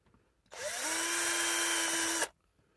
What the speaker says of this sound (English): drill through each piece of wood.